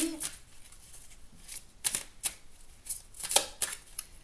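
Oracle cards are shuffled by hand in short, crisp riffles and slaps, several quick bursts spaced unevenly, close and fairly quiet with a brief voice at the start.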